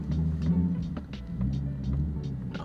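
A manual-transmission car fitted with BC Racing coilovers idles and creeps in reverse down a dirt driveway, its low engine rumble close and steady, with faint knocks and clicks on top.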